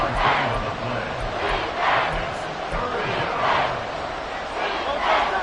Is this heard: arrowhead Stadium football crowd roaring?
yes